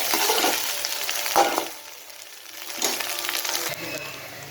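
Cauliflower being stir-fried in a pan for a cauliflower and egg dish, a close sizzle with scraping stirs that surges, briefly eases, then returns.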